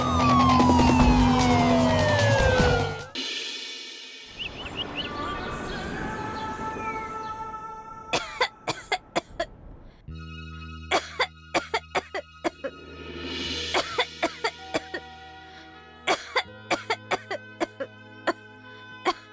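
A woman with a persistent, chronic cough illness coughs in several bursts at close range, the sounds tangled with siren-like tones and sharp clicking hits in a dramatized indoor scene.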